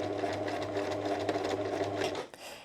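Close and steady, a sewing machine stitches fabric for a beginner's shower sponge, running forward and backward in a continuous whirring rhythm before cutting off sharply near the end, with no voices.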